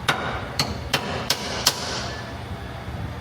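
Five sharp metallic hammer taps, evenly spaced over about two seconds, strike a transfer punch against a bracket clamped on a Ford Super Duty, followed by quiet shop background.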